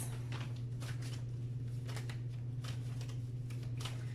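Soft riffling and slapping of tarot cards being shuffled close by, in irregular bursts over a steady low hum, with no one speaking.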